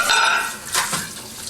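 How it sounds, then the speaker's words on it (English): Running sink water splashes over a microwave plate being washed by hand in a vacation rental kitchen, a short close burst of flowing water with brief clinks of dishware. "So while I'm here at the sink, I'll go ahead and get my microwave plate washed"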